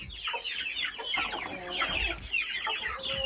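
Chickens, including an old rooster, cluck in a coop, giving several close, overlapping bursts of clucks and squawks.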